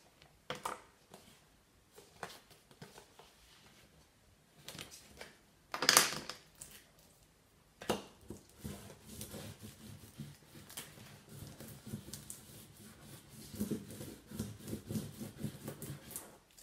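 A ScanNCut cutting machine cuts out big black letters, giving a quiet, steady rubbing and scraping texture with one brief louder burst, running alone without voices.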